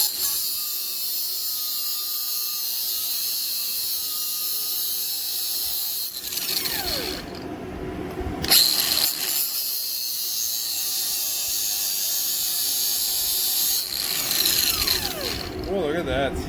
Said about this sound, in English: I'm going straight to the grinder.